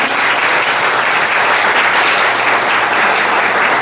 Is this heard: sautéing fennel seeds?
no